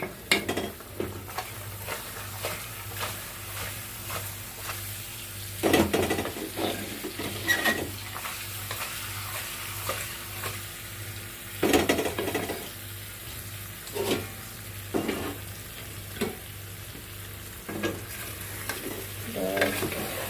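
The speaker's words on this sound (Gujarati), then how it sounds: "એને આપણે શાંતિથી હલાવી નાખ્યું એટલે મિક્સ થઈ જાય." Stuffed bitter gourd curry being stirred in a pan, with repeated scraping strokes of a spoon over a steady low sizzle, close and moderately loud, several sharper clanks standing out along the way.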